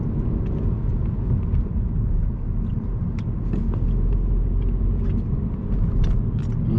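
A car pulling away from a stop during a driving lesson, heard from inside as a steady, loud low engine rumble with road noise that holds throughout.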